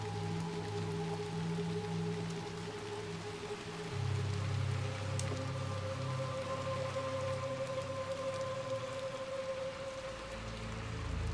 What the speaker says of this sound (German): Ich muss ja auch noch hier durch den Regen rennen, ey.